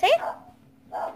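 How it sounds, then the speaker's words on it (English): A pet dog at home gives a sharp yip followed by a softer whining bark, close and brief, with a person speaking over part of it. "Sorry about my dog."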